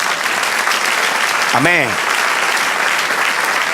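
A church congregation bursts into steady, loud applause for the Lord, and a single voice calls out briefly in the middle while the clapping continues.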